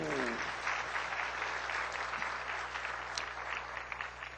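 A church congregation claps during a sermon, a steady wash of applause heard from some distance that holds evenly throughout, with a faint voice underneath.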